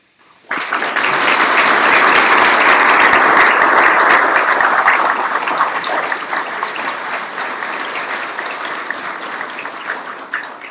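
A large audience at a Marine Corps awards dinner applauds the award recipients, loud, dense clapping that swells in at once and holds steady, easing off slightly toward the end.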